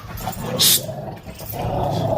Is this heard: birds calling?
no